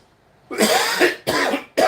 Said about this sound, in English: coughing on your plants helps too